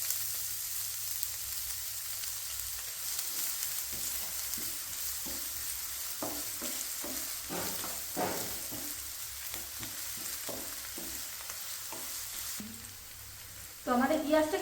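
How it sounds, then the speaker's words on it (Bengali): Chopped onion fries in oil in a pan while cooking street-style vegetable chops, with a steady close sizzle and scattered scraping stirs throughout, then a brief louder clatter near the end. "তো আমাদের পেঁয়াজটা কিন্তু হালকা একটু ভাজা হয়ে এসেছে"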